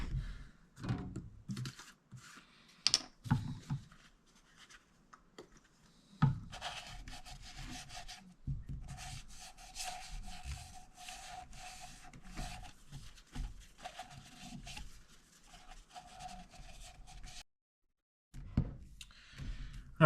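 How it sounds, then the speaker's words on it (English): Finger holes of a DV8 Dark Side bowling ball being beveled, with close soft rubbing and scraping and a faint steady whine from a rotating tool, plus intermittent handling knocks. "All right, so we've beveled out the fingers here."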